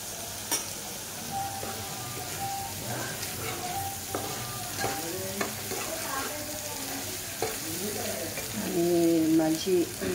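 Misal masala frying in plenty of oil, a steady sizzle with scraping and stirring sounds from a spoon in the pan, while someone talks quietly over the cooking.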